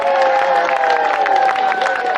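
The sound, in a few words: audience applause for a singer at an outdoor event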